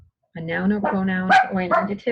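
A dog barks repeatedly and close by, its loud barks overlapping and mixing with a person speaking indoors during a grammar lesson.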